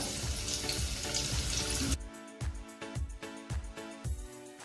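Eight or nine curry leaves and crushed garlic cloves hit a ladle of hot oil, a loud dense sizzle at first that settles into quieter crackling with a steady pulsing rhythm.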